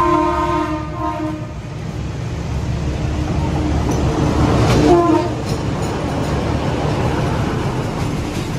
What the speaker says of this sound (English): Train round two, here we go.